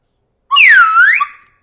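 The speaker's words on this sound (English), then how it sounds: "You think if I blow the slide whistle in your ear," A slide whistle blown close up gives one continuous swooping tone, sliding down then back up over about a second, loud and with no talk.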